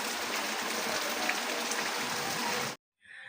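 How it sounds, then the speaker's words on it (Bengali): Steady rain falling on a rainy day after a night of downpour, an even, dense hiss that cuts off abruptly near the end, with no voices. "এখনও বৃষ্টি হচ্ছে।"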